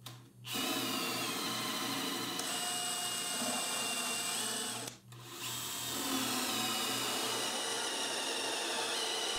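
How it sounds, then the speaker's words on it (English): Power drill boring large holes through a wooden tabletop, a loud steady whine running nearly continuously with a brief pause midway, close and alone with no talk. "drill some holes in this that are large enough so that I can push the stone up out if I need to remove it"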